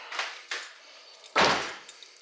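Driver's door of a 2003 Mitsubishi Galant with a newly replaced latch, giving a couple of light clicks and then one solid, close thud as the door shuts, followed by faint small clicks.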